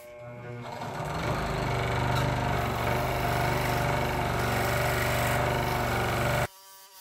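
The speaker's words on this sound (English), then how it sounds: "we're just going to use a blade to slowly shave stuff off" A power tool runs steadily with a buzzing, whirring drone while a blade shaves down a scroll-saw-cut letter B, then cuts off abruptly near the end.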